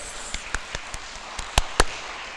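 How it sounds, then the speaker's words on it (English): A handful of individual claps from a small conference audience at a physical education event. About nine distinct, crisp hits come at an irregular pace, with the last two louder, over quiet room noise. "I said a round of applause"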